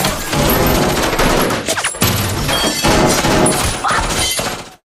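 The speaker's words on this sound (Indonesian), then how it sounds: "suara rentetan tembakan tiba-tiba terdengar dari luar" Rapid gunfire exchange during a film shootout: dense, overlapping bursts of shots crackle loudly and almost continuously, with brief gaps between volleys.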